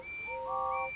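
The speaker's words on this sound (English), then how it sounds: "Hooray for Gordon, whistled Thomas. And all the engines tooted." Cartoon steam engines toot their whistles in quick overlapping tones, several pitched whistles sounding together in one brief, clear burst.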